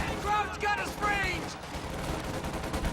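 Gunfire from an MG42 machine gun loaded with incendiary rounds in Company of Heroes 2, rattling in dense bursts through a busy battle mix while a voice talks over it.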